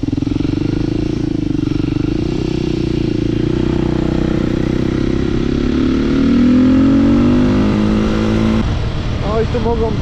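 Husqvarna 450 supermoto motorcycle ridden on a gravel pit, its single-cylinder engine droning loudly and steadily close up, then rising in pitch as it accelerates near the end.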